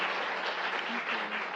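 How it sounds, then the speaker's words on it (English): Audience applauding at the close of a health lecture on depression in children and adolescents, a steady, dense wash of clapping that holds evenly through the moment. "How about another round of applause for Dr. Angela King and Forrest Wells?"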